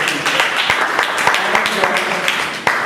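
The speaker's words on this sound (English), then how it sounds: "A big round of applause to Vijay as well as the evaluation." An audience at a speech club meeting applauds a speaker and evaluator, a dense steady clapping that fills the room with voices mixed in.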